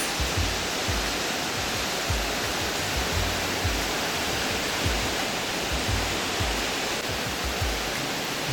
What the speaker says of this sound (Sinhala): දැවන්ත රුක්ගොමු අතරින් ගලා හැලෙන නිර්මල පිවිතුරු ජලය කෙතරම්ද අපූර්වද